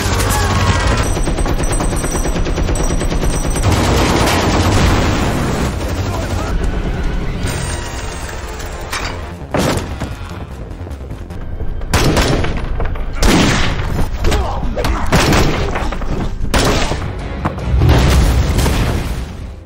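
A gunfire shootout in an action film rings out in rapid bursts of shots and heavy booms, loud and dense, broken by brief lulls before the firing surges again, with a narrator's voice underneath.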